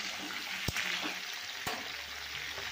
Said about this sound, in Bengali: তো এবারে আমি পটলগুলো দিয়ে দিলাম তেলের মধ্যে। এবারে পটলগুলোকে আমি ভাজব।